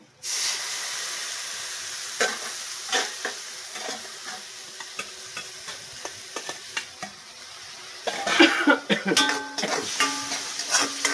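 Tuna marinade hits a hot pan and sizzles hard, a steady frying hiss broken by stirring clatter and utensil scrapes, growing louder and busier near the end.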